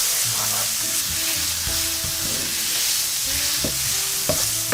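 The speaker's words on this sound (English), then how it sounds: "On a preheated surface, spread out the onion and mix it well." Onion spread across a preheated pan with a couple tablespoons of vegetable oil sizzles continuously up close, with soft scraping and knocks from stirring throughout and a low tonal hum underneath.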